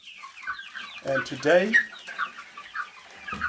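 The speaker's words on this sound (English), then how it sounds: "we got some chickens here, and these are black Australorp" Black Australorp chickens on a small poultry farm cluck and squawk close by in a busy, overlapping flurry while someone speaks briefly under the birds.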